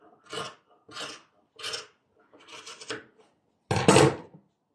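Scissors cut through fleece fabric along a curved ruler in five separate rasping strokes, close and clear, the last one louder and longer, with no talking.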